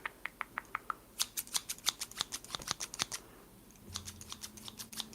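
Sharp scissors snip crisply and close by in a quiet room for ASMR. An evenly spaced run of single cuts speeds into rapid snipping, pauses briefly and then resumes in another quick burst.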